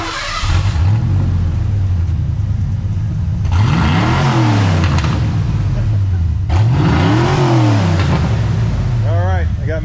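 Stock exhaust on a bone-stock Fox Body Mustang, split at the H-pipe and catback, revving repeatedly: a loud, steady idle rumble broken by two rising-and-falling throttle blips, with voices talking over the engine.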